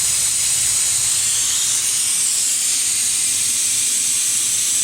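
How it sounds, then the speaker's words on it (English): Steam escapes steadily from a pressure canner holding turkey gizzards, a loud, continuous close-up hiss that stays constant throughout with no pauses or voices. "watch how quickly that goes down as that steam escapes."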